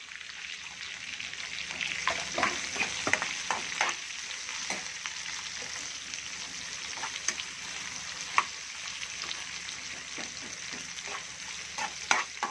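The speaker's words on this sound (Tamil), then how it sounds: "கட் பண்ண வெங்காயத்தை நம்ம இப்போ போட்டுக்கலாம்." Chopped onions for rava upma sizzle and crackle steadily in hot oil, with occasional stirring clatters and sharp pops throughout, fairly close and continuous.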